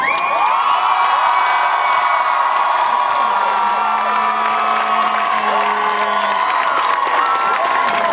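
Crowd cheering and whooping at a climate strike march of striking students in Montreal, a loud, dense wash of shouting voices that holds steady throughout, with a brief sustained tone partway through.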